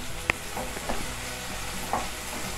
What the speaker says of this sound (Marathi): टोमॅटो ॲड करून घेऊयात आणि हा देखील एकदम सॉफ्ट होईपर्यंत परतून घेऊयात